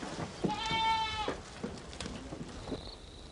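Goats kept in pens on a rural development project in China bleat, one long wavering cry up front followed by fainter, shorter calls from others, all moderately distant over a quiet outdoor background.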